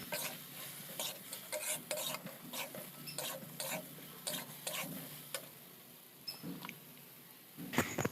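Spoon stirring turmeric and chili powder into a pan for a Bengali ridge gourd curry, with repeated scraping strokes and light sizzling, close and steady, no talking.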